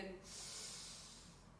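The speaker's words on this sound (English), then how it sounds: "always breathe in through your nose" A person takes one slow, deep breath in through the nose, a soft airy hiss lasting over a second, close and quiet.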